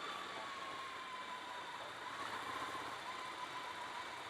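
A Ducati Scrambler Desert Sled motorcycle engine on a ride, a continuous, fairly faint drone with a steady whine and wind-like rush, no distinct throttle changes.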